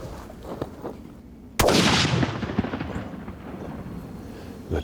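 A single sharp rifle shot fired at varmints outdoors cracks out loud and close, then rolls away in a long echoing tail across open country.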